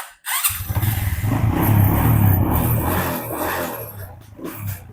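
A Honda CRF supermoto motorcycle engine starts up and idles steadily nearby with a low, rumbling throb, then tapers off near the end.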